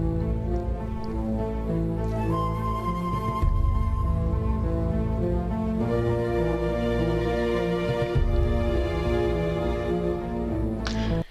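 A serious, tonal film-score excerpt plays on its own from a film clip, with sustained, layered harmonic tones shifting chords every couple of seconds at a moderate, even volume and no talking.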